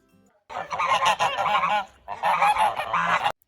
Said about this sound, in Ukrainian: Так це ж гуси. До нас поспішають.